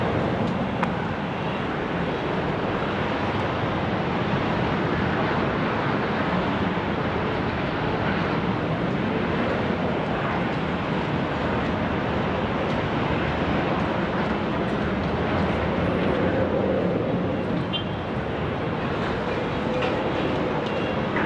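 A Qantas airliner lands on runway 16 right at Sydney Airport in a gusty 20-knot wind, a loud, steady broadband roar that holds throughout without a break.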